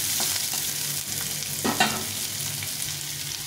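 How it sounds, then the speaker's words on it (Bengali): Potatoes, eggplant and other vegetables fry in a pan for a small-fish dish, a steady loud sizzle with scraping stirs of a spatula, close up and without speech. "বেগুনটা কিন্তু আলুর সঙ্গে ভেজে নেব।"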